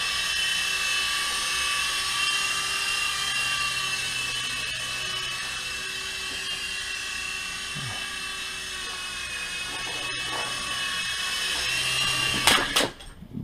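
High, whining buzz of a GP Toys G610 3.5-channel RC helicopter's rotor hovering nearby indoors, steady for a long stretch before ending in a sudden clatter as a dog grabs it.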